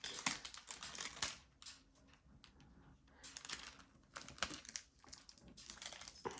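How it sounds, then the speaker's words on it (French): A folded plastic sheet from a diamond painting kit being unfolded, giving bursts of close, crisp crinkling separated by short pauses. "Je vais juste déplier et replacer le plastique."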